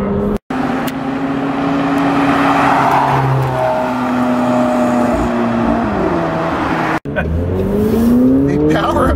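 A McLaren 720S sports car drives hard, its engine loud and close with rising and falling revs across gear changes, a couple of abrupt breaks in the sound, and someone talking over it.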